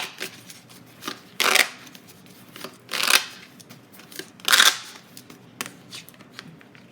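Tarot cards being shuffled in three crisp riffling bursts, close and clear, with soft card taps and handling in between.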